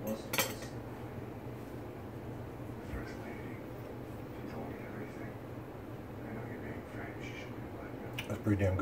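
A fork clinks against a dish while butternut squash is tasted midway through cooking, giving a couple of faint, brief taps at the start and end over a low steady room hum.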